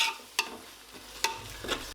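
Curd and onion masala sautéed in oil for chicken dum biryani, with a soft low sizzle and a few sharp spoon scrapes against the pan, close and alone.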